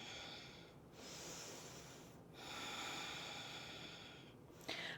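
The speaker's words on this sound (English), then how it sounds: "Deep breaths." Deep, steady breaths during a vinyasa yoga flow: long, airy inhales and exhales heard close over a constant low background hiss, with a brief break between each breath.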